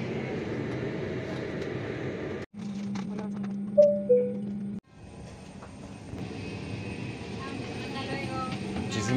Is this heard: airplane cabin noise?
yes